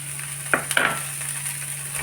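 A spoon stirs chicken samosa filling with green peas in a hot pan, with a couple of sharp scrapes and clinks over a faint, steady sizzle and no talking.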